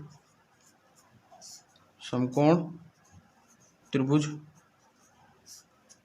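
Writing on a board during a Class 9 maths lesson: faint scratchy strokes in the quiet gaps, with a teacher's voice speaking over them twice.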